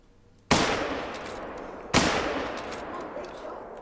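Rifle shots at a jackrabbit in theHunter: Call of the Wild ring out twice, each a sharp, loud crack with a long rolling echo that carries over open ground.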